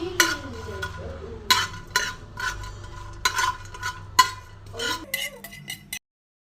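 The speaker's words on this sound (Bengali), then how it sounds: "এটাকে আমি একটুখানি শুকনো কড়াইয়ে নেড়ে নামিয়ে নেব।" Whole cumin, green cardamom and cinnamon stirred in a dry wok, giving intermittent scraping and rasping strokes with occasional light clinks, close and moderately loud with no talking, ending in silence.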